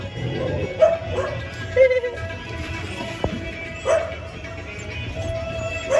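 A puppy yips and barks indoors, a few short high-pitched barks and whimpers scattered over several seconds at moderate loudness, with faint voices in the background.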